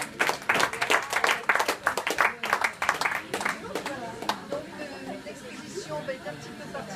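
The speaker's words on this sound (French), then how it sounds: "Et puis je voulais applaudir" Applause for the artist at an exhibition opening in a café, loose uneven clapping from a small crowd that dies away after a few seconds into chatter and murmuring voices.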